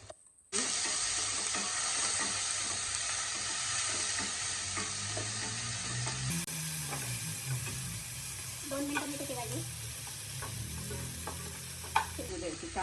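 Fenugreek greens and garlic frying in a pan, a continuous loud sizzle with scraping stir strokes and clinks, the hiss jumping louder partway through as more goes into the pan.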